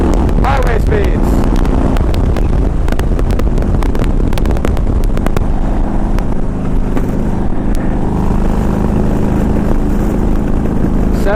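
A 2000 Harley Davidson Ultra Classic cruising at highway speed around 70 mph, a loud, steady engine drone buried in heavy wind rush, with a rider's voice talking over it.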